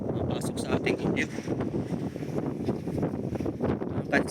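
Strong wind buffeting the microphone outdoors near a large boat, a close, gusty rumbling roar that swells and dips continuously, with someone talking over it.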